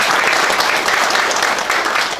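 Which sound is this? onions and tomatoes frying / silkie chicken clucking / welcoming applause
welcoming applause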